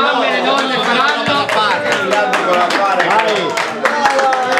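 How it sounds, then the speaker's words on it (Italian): A crowd applauds during a children's prize-giving at an Iron swimming race, steady clapping continuing for several seconds under a busy mix of voices and cheering. "Prendetevi un applauso che le mamme e le donne faranno."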